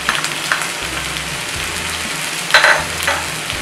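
Green chillies and curry leaves going into a pan of frying vegetables for a Kerala-style mixed vegetable theeyal, giving a loud, steady sizzle with a few sharper crackling bursts and stirring scrapes.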